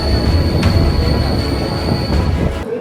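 A passenger train on the Vizag to Araku route rumbles steadily and loudly, with a continuous broad roar of wheels on the rails and a faint high whine running through it.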